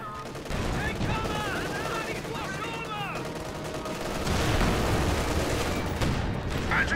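Gunfire and anti-tank gun shots in a Company of Heroes 2 battle between Ostheer and British forces, a steady crackle of small-arms fire with heavier booms swelling toward the end, mixed with other battle noise.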